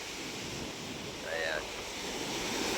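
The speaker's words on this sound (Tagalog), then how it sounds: "Napakalalaki po ng alon na yan" Steady roar of large ocean waves stirred up by a typhoon at a fish terminal in Tanza, Cavite, with strong wind noise buffeting the microphone, continuous throughout, with a faint tonal sweep in the middle.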